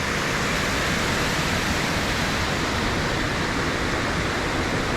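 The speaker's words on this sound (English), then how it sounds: "I'm gonna try to get as close to the falls as I can without actually falling." Indian Flats Falls, a multi-tiered waterfall carrying a heavy flow, roars as a dense, constant rush of water, loud and close, with no voices.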